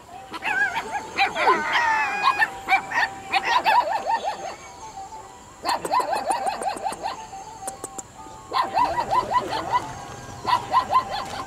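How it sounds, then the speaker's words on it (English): A bunch of puppies in Hampi, India, bark and whimper in several bursts of high yips and whines, fairly close, with short quiet gaps between outbursts. "Oh, bunch of puppies."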